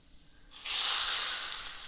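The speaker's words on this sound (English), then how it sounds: "immediately you're going to pour it over the sukuti because obviously you don't want the turmeric to burn" Hot turmeric oil is poured over sukuti dried meat and bursts into a loud, sudden sizzle that hisses strongly and slowly fades, with no talking.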